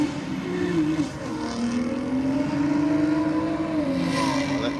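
BMW wagon and sedan drag racing at Sydney Dragway: a loud, continuous engine roar whose pitch wavers and climbs as the cars accelerate hard down the strip.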